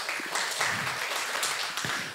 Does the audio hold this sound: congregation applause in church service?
yes